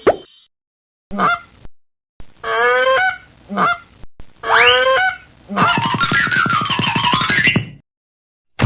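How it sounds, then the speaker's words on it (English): A goose honks loudly and repeatedly, bursts of nasal calls with short gaps, ending in a long warbling cackle. "The goose is loose."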